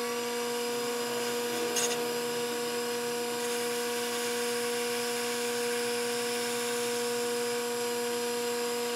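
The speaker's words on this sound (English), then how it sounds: "So I'm just going to touch off the face again, take it in about 5 thousandths," Metal lathe taking a light facing cut on a small washer for a home-shop foliot clock, giving a steady motor hum with constant tonal whine and faint cutting noise throughout.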